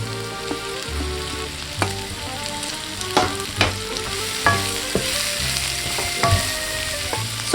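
Onion and pepper sizzle and fry in a hot pan for Japchae, a steady close crackle with repeated stirring scrapes and clinks throughout, no talking.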